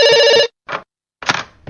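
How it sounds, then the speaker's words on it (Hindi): A telephone bell rings loudly and close by in a cartoon scene, a sustained electronic trill followed by short bursts separated by gaps of silence. "इस फोन को भी अभी बजना था।"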